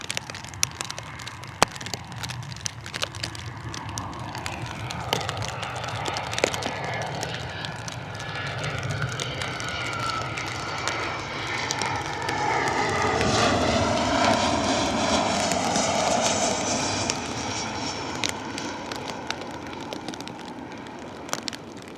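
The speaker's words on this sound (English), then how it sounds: "Ryanair coming in." Ryanair airliner landing at Bristol Airport in wet, stormy weather, a broad engine roar that swells steadily and stays loud through the middle before easing, heard from a distance outdoors amid rain.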